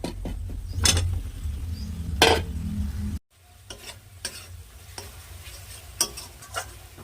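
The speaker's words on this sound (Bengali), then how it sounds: "কষানো হয়ে গেছে, এবার আলুগুলো দিয়ে দিই।" Potatoes tip into a pan of spiced fish curry with fried fish heads, giving a few clattering knocks and stirring scrapes over a low sizzle, close by with no talk.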